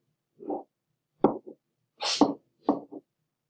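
A short burst of noisy, explosive sound, a single sneeze during a precalculus class, set among a few brief vocal sounds, fairly close with quiet gaps between them.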